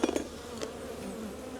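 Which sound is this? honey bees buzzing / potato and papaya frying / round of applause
honey bees buzzing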